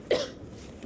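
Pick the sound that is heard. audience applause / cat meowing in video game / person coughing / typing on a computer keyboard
person coughing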